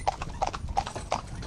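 Horses walking in harness as a tandem pair, hooves clip-clopping in a steady, close, loud rhythm of about five strikes over a moment.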